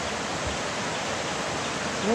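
Water flowing along the Bharathappuzha river near the Chamravattam bridge, a steady, even broadband rush that fills the whole moment without pause.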